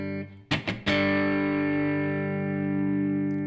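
Three quick scratchy muted-string strums on a distorted electric guitar, then a loud distorted chord rings out and sustains slowly fading.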